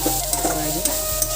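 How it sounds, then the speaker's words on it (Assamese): Manimuni (Asiatic pennywort) frying in a pan, stirred with a spatula: close, loud scraping strokes over a steady sizzle, with a low hum underneath. "আকৌ এতিয়া লৰাই দিওঁ।"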